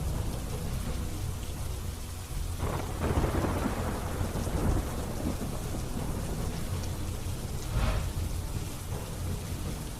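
Heavy monsoon rain pours at night over Bhatiya village in Kalyanpur taluka, Dwarka, a dense steady roar broken by two loud thunder rumbles, one early and one late, with no voices.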